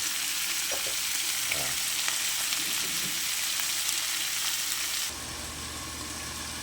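Steady crackling sizzle of tambakan fish frying in hot oil, continuous and close, with a few faint clinks early on and a slight drop in level near the end.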